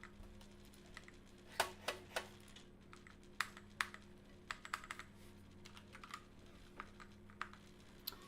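Rapid keystrokes on a computer keyboard during a racing game session, sharp irregular clicks and clusters of taps at close range with no voices.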